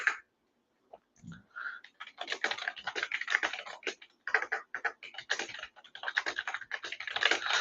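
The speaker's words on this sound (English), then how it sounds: "let me type this in" Fast, steady typing on a computer keyboard, close and fairly loud, with dense runs of clicking keystrokes after a brief pause near the start and no talk over it.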